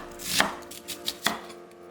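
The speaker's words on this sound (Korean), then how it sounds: "그 사이에 양파 4분의 1개는 살짝 굵게 썰어" A knife chops a quarter onion into coarse pieces on a cutting board: a handful of crisp, close, separate chops at uneven spacing, with no voices.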